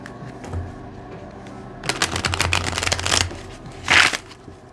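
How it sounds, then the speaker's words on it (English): A deck of cards is shuffled in two close bursts of riffling, one lasting about a second and a half, then a short sharp flutter, over quiet background hum. "One more shuffle."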